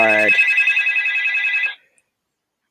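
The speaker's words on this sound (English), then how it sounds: "Let me see who's calling me." A phone ringtone for an incoming call rings loudly and steadily for nearly two seconds, then cuts off into silence.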